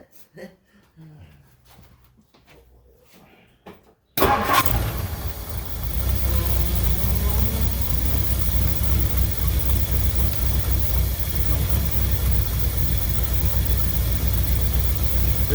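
Mercury car engine with a rebuilt Motorcraft 2100 carburetor and a badly worn exhaust system cranks and catches after a quiet start, then settles into a loud, steady, rumbling idle that runs on to the end.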